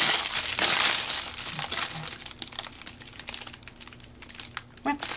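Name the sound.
crinkling rolls of fabric paper being handled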